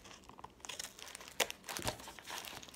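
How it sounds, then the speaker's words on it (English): Plastic packaging on a DVD and magazine crinkles and tears as it is cut open, soft close-up rustling with a couple of sharper crackles. "I'm just gonna cut this"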